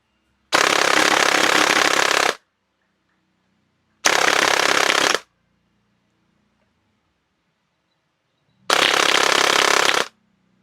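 Blaster fitted with an AhTech 3300KV brushless motor fires in three loud, close full-auto bursts, the first about two seconds long and the next two shorter, with silent gaps between them.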